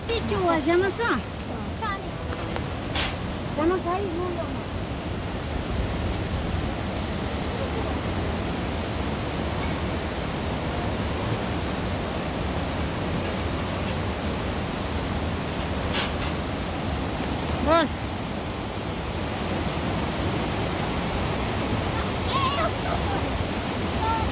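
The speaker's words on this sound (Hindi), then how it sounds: "और बारिश रुकने का नाम नहीं" Heavy rain falling outdoors near a spring in hilly country, a steady loud hiss that runs unbroken throughout with a few faint clicks on top.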